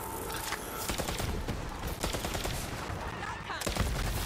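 A weapon firing in Borderlands 3, with dense, continuous bursts of shots and explosive cracks rolling over a loud game soundscape.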